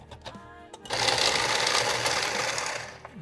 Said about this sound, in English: Sorry about the noise there. Gotta shuffle my randomizer deck.